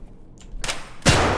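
Pistol fire in a shooter video game: a sharp broadband shot, then a louder, sustained burst of gunfire near the end, close and loud with no talk.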